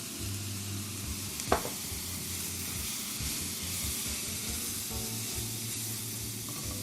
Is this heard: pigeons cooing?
no